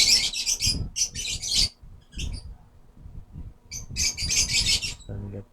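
Bursts of high, rapid bird chirping come in clusters, fairly close and loud, with brief gaps and low background rumble between them.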